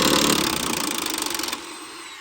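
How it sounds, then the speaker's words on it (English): A power tool works on a Honda K-series car transmission, making a loud, rapid ratcheting buzz with a fast pulsing rhythm that cuts off abruptly partway through, leaving a softer whir behind. "If I didn't have any power tools to get that noise."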